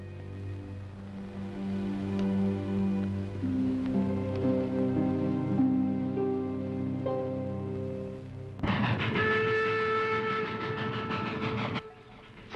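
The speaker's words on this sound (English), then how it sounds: "The train was moving right along." A moving train in a Western drama, a loud steady rumble with rhythmic rolling beneath it, then a sudden brighter, harsher wash of noise near the end.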